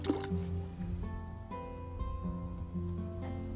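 A heat-welded tab on an Easycare hoof boot sole is dipped into a bucket of cold water, giving faint squishing and dripping liquid sounds, close and quiet, with soft sloshing throughout.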